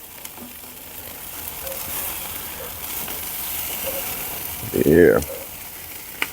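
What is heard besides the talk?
chicken thighs sizzling as they are flipped on a charcoal grill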